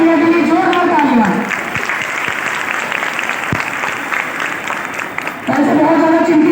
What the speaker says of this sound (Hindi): तो एक बार मौसम भैया के लिए जोरदार तालियां।